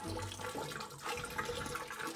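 Water splashing and draining steadily from a heavy, waterlogged carbon block filter cartridge removed from a Monstr Flow cartridge filter, a continuous close pouring trickle with no talk.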